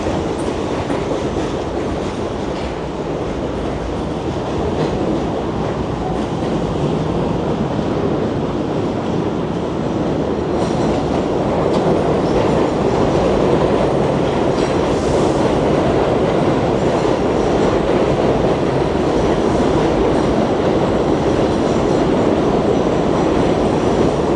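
NYC subway train in motion, heard from inside the car: a steady, loud rumble and roar of wheels on track with a faint rhythmic clatter, continuous the whole time and with no voices.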